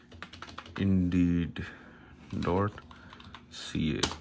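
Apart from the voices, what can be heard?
typing on a computer keyboard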